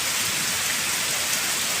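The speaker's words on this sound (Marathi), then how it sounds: "कोकणामध्ये आपल्या पाऊस चालू झालेला आहे." The first monsoon rain falls in Kelus Kalvi Bandar, Vengurla, in Konkan, a dense, steady hiss of heavy rain with no voices.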